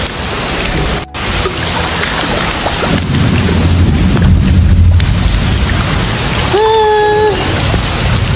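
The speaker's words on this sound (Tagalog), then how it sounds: "Sarap na ulan." Heavy rain pours steadily, a dense hiss close by, with a brief break and a whistling tone near the end.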